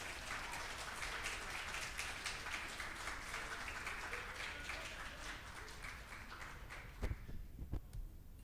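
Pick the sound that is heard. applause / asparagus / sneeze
applause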